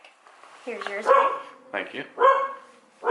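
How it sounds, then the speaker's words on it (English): A dog barks in short bursts close by, several loud woofs spread over a few seconds, while people talk briefly. "Pardon the dog in the background."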